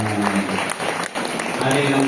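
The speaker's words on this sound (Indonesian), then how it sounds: "Tepuk tangan buat mereka." A crowd at a pesantren graduation farewell applauds the fourth cohort of Madrasah Aliyah students, with continuous clapping running under a speaking voice.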